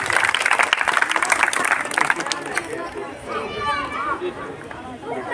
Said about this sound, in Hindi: इसके लिए जोरदार ताली हो जाना